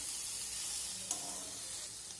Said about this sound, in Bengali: সাদা তিলটা দেওয়ার পর এইভাবে একটু নাড়াচাড়া করে মিশিয়ে দেব।